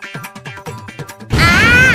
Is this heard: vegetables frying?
no